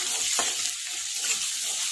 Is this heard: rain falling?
no